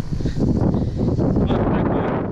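Wind blows steadily across a pebble beach on Rhodes by a calm sea, a loud, continuous rushing buffet against the microphone with no voices.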